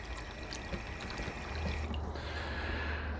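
Filtered water pours into a container for homemade brats, a continuous close splashing stream that thickens and shifts slightly partway through.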